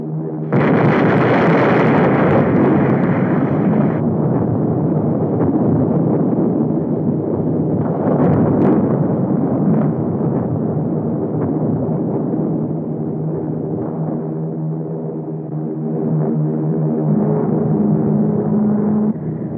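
Bombs dropped from aircraft and exploding in a 1952 Cold War invasion film, a loud sustained roar of blasts and rumbling engines that swells and surges throughout, with no talk.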